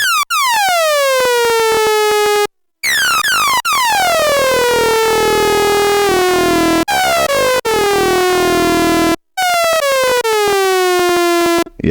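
A Behringer MS-5 synthesizer oscillator plays with weak sync, giving bright, harmonically rich tones that sweep downward in repeated gliding phrases with short breaks, loud and continuous with no talk.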